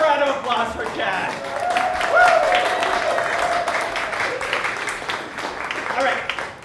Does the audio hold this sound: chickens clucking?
no